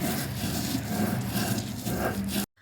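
Chutney of coriander, mint and garlic is ground on a stone sil batta, giving a continuous close rough rubbing and scraping that stops abruptly near the end.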